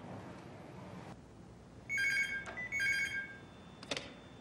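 A telephone rings indoors in two short bursts of bright electronic trilling, moderately quiet against a hushed room, followed by a brief sharp click.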